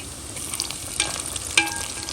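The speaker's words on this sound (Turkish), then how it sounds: "Şimdi ablam kızartıyor." Pişi dough fries in a pan, giving a soft, continuous sizzle and crackle with a couple of sharper stirring clinks, quiet and close with no voices.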